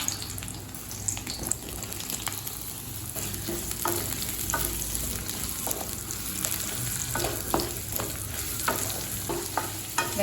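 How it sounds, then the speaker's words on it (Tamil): Onions sautéing in a pan for paneer butter masala give a steady, close sizzle, broken by repeated short scrapes and clicks of a spatula stirring them, with no talking. "வெங்காயம் நல்லா வதங்கி கலர் மாறட்டுங்க"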